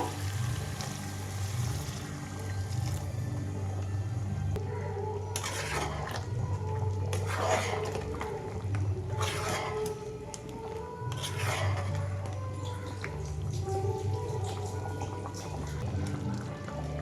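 Hot water being poured into a pan of mutton curry, with splashing bursts and a liquid rush over a low background hum, repeated in several pours.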